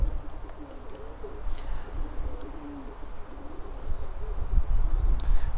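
Racing pigeons at a Baku pigeon racing championship coo softly and low in the background, a few murmuring calls over a steady ambient rumble, no talking.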